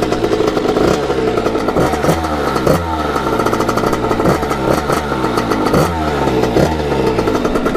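A Kawasaki KX80 big bore two-stroke dirt bike engine warms up, running loud and close with a steady, rattly idle broken by repeated short revs, with no talking.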